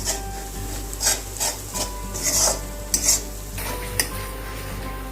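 Spoon slowly scraping and stirring thick soya korma gravy in a pan on a low flame, soft repeated rubbing strokes with occasional light clinks against the metal, over a faint steady sizzle.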